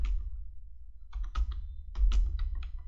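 Typing on a computer keyboard, with close, crisp key clicks arriving in short uneven bursts separated by brief pauses.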